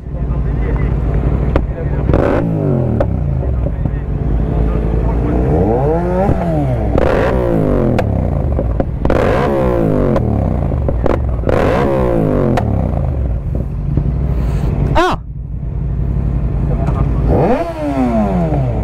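A 2020 Yamaha MT-07, restricted for an A2 licence, revs repeatedly close by. Its engine note sweeps up and down in pitch again and again, over steady wind buffeting on the microphone.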